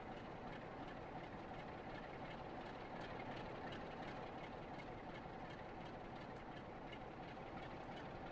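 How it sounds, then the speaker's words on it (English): A train rolls past on the Blackpool line in Train Sim World 4, a steady, dense rumble of wheels and carriages that holds close and loud throughout, with no voices. "There's another train coming, which could be a sleeper."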